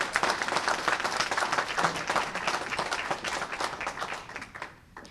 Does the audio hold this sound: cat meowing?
no